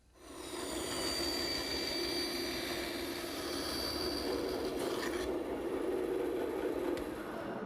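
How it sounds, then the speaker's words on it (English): Band saw in a woodworking shop, a continuous loud whirring hum that starts up abruptly and holds steady, with a short higher-pitched cutting whine near the middle. "Now I'll go to the bandsaw."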